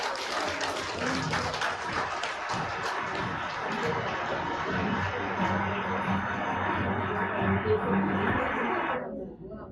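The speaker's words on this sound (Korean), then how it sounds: "우리 이병렬 마스터님께 다시 한번 큰 박수 부탁드립니다" An audience at a hotel business lecture applauds the speaker in a long, dense round of clapping mixed with crowd noise and a steady tonal backing, holding at even loudness for about nine seconds before cutting off abruptly.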